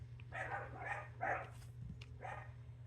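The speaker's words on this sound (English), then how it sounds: "Can you hear my dogs? I don't know what they're barking at." Dogs bark several times in quick succession at a moderate distance, sharp yaps over a low steady hum, with no talking.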